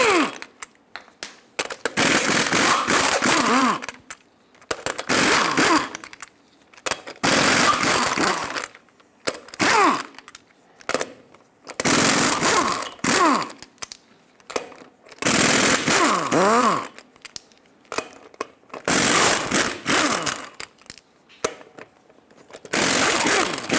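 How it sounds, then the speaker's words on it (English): A 22mm socket on an impact wrench spins off the lug nuts of a front wheel on a Ford E-350 Super Duty van, six loud rattling bursts of a few seconds each, separated by short quiet gaps. "Use a 22mm socket to remove all 8 lug nuts and then pull the wheel off."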